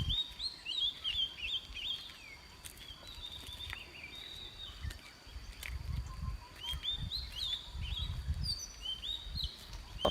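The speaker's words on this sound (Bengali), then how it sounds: "আর চারিদিকে পাখির কলরব আরো জায়গাটাকে মনোমুগ্ধময় করে তুলছে" Birds chirp near a sea beach in repeated bright calls and short trills, fairly faint, over a low windy outdoor rumble.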